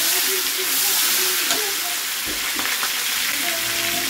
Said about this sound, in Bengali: দেখো 2-3 মিনিট রসুনটাকে এরকম ভাজবে